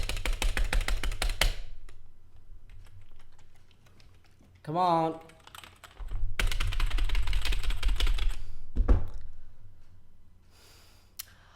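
Bursts of rapid computer keyboard typing, close and fairly loud, come in two stretches broken by a short spoken exclamation and a pause.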